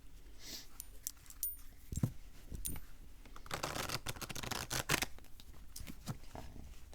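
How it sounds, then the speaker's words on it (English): Tarot cards being shuffled on a desk give soft, irregular riffling and slapping rustles that come in several bursts, close and fairly quiet, with a denser flurry in the middle. "So you want to see how it shuffles? Let's do that"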